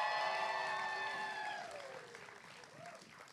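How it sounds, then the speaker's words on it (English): Audience applause at a UniSlam 2024 grand finals poetry slam swells under a ringing, cheer-like voice and then fades gradually toward the end. "One more round of applause, please."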